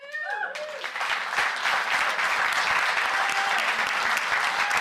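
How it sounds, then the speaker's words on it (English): Audience at a city council meeting breaks into loud, sustained applause for a high school football team, dense clapping that swells after a brief rising tone and holds steady. "Please join us in giving them a well-deserved round of applause."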